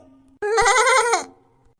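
A cartoon goat gives one loud, wavering bleat lasting under a second, close and clear, with a faint tone before and after.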